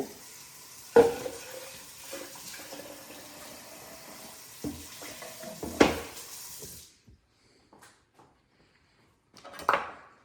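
Utensil rinsed under a running kitchen tap while making raita, a soft stream of water with a few clunks and knocks, then the water stops and a final clatter follows after a near-silent pause.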